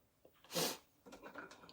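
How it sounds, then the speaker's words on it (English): A single quick sneeze bursts out, followed by a few soft sniffly breaths, all fairly faint and close. "I'm gonna sneeze"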